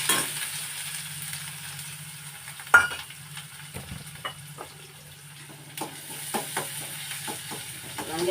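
Onions sautéing in a pan with mustard seeds give a quiet, continuous sizzle, broken by a few sharp scrapes and clinks of stirring, with no talking.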